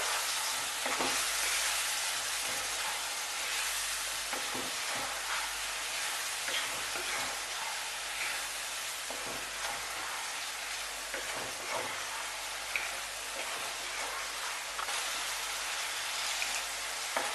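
Spices and mixed vegetables sautéing in a pan for vegetable dum pulao, a steady, dense sizzle with occasional stirring scrapes throughout, close and continuous with no voices.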